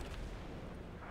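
Booming report from a British SMLE Mk III rifle in the video game Enlisted, a dense, rumbling blast that fills the short moment with no voices.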